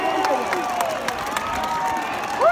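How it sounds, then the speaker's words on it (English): Stadium crowd at a college football game, Montana versus North Alabama, roars in a steady continuous wash with scattered claps and cheers, swelling slightly near the end. "Crowd getting back into it."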